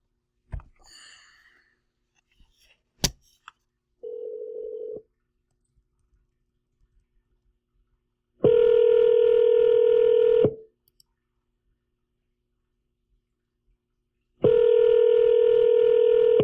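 A phone call to an office phone, placed from a phone: brief clicks and a short tone as the number is dialed, then two long loud ringback tones separated by silence.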